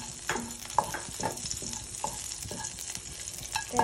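Cinnamon and crushed cardamom sizzle in hot oil for dudhpuli pitha, a soft steady crackle broken by the clinks and scrapes of stirring, fairly quiet and without voices.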